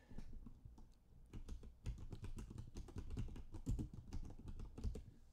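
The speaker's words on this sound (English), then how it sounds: "I'm going to type in goldenstrings studio" Someone types on a computer keyboard in quick, uneven bursts of close, crisp key clicks with short pauses between runs.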